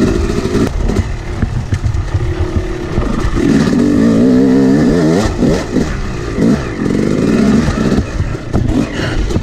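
Dirt bike engine riding trails at Hollister Hills, a steady loud motor note that rises and falls as the throttle changes, with rattling and clatter from rough ground throughout.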